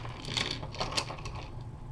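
Small black nylon thumb screws rattle and clink as they are pulled from a plastic bag, a close, busy jumble of light clicks and crinkles.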